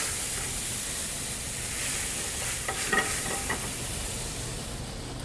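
White wine hits a hot pan of salmon drippings, giving a broad steady sizzle and hiss with faint scraping, close and continuous throughout, no voices.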